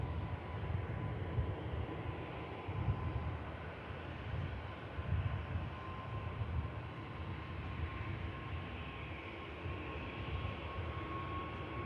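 An EasyJet Airbus A320neo bound for Belfast, a steady low engine rumble with a faint whine, heard alone at moderate distance for about twelve seconds.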